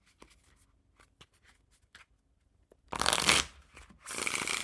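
Ellusionist Green Knights playing cards handled with small taps and flicks, then two loud bursts of riffle shuffling, close and alone with no talk.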